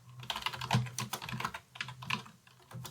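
Someone types code on a computer keyboard, a close run of quick, uneven key clicks and taps with brief pauses, no voices.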